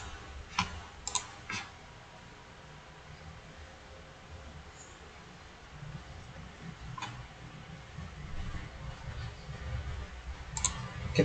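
Sparse computer mouse clicks, a few quick faint taps near the start and a couple later, over a steady low room hum during 3D modeling work.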